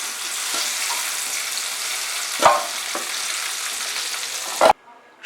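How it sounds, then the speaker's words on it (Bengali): Mixed vegetables stir-fry over a high flame in a kadai, a loud, dense sizzle running throughout with a few knocks of a spatula against the pan before it cuts off abruptly. "নাড়তে নাড়তে আমি হাই ফ্লেমে 5 মিনিট কিন্তু সবজিগুলো ভেজে নিলাম।"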